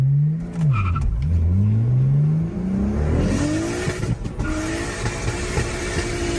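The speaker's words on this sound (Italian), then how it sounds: "guarda come sgomma." A turbocharged car with an external wastegate revs hard and spins its tires, the engine pitch sweeping up and down through gears with a loud, close roar and tire squeal.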